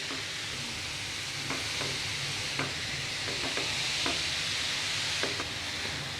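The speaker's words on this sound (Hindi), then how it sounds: "हाई फ्लेम पर हम गाजर को चलाते हुए फ्राई करेंगे" Grated carrots for halwa being stir-fried on a high flame, a dense, steady sizzle with occasional soft scrapes of a spoon against the pan.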